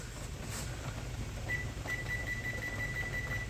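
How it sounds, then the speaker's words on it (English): A kitchen timer is set and chirps a steady run of short, high, evenly spaced beeps over a constant low hum of running equipment. "You're gonna set your timer"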